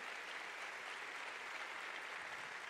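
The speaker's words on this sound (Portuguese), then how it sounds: "pode aplaudir o Senhor. Dale un fuerte aplauso al Señor." A congregation at a bilingual church service claps for the Lord, producing an even, sustained roar of applause that fills the room without pause.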